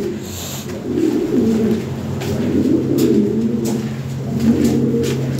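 Fancy pigeons coo steadily and close by in a low, rolling drone, several birds overlapping without pause in a pen of large birds for sale.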